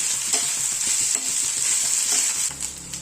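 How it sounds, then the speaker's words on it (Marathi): Potato pieces stirred and frying in hot oil with a ground spice paste and cumin, a steady crackling sizzle with scraping stirs, close and alone. "आणि त्यात टाकून घ्यायचे छान आपण बटाटे."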